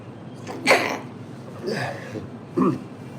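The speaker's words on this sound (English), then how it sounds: "Excuse me, I'm going to sneeze." A person sneezes up close: one sharp, loud burst near the start, then two smaller breathy bursts spaced about a second apart, with quiet room tone between and no talking.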